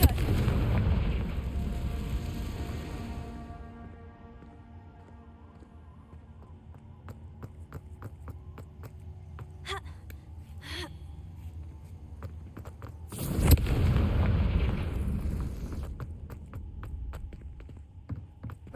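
Confringo fire spell cast in the Hogwarts Legacy video game, with a deep rumbling blast at the start fading into a low hum, sharp ticking and crackling hits in the middle, then a second heavy booming burst followed by scattered clicks.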